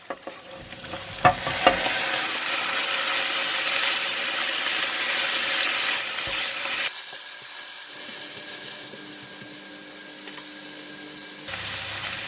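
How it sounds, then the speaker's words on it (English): Steady loud sizzling and hissing of vegetables stir-fried in a hot wok, with a few clanks early on and a constant frying roar throughout. "I'm going to fry the vegetable first"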